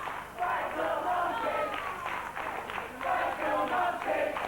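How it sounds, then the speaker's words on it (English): A wrestling crowd at a high school wrestling event chants in rhythmic, repeated bursts at a wrestler, a loud massed roar of voices with no single speaker standing out. "The crowd getting in Mark Sloan's face, chanting "Spank the Monkey.""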